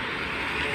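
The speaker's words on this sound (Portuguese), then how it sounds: "passando carro, passa carro" Continuous broadband traffic roar on a busy avenue, with cars and motorbikes passing nearby, loud and unbroken with no clear speech over it.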